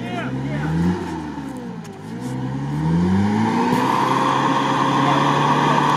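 A Lada Niva on road tyres stuck in deep sand, its engine revving up and down and then holding a high whine while a front wheel spins, with someone talking over it.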